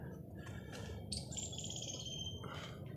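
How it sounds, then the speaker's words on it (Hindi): Birds chirp at the bird feeding area of Geeta Birla Temple in Kurukshetra, faint scattered tweets and one longer whistled call over a low, steady background murmur. "ये देखो बहुत ज़्यादा यहाँ पे पक्षी भी आए हुए हैं।"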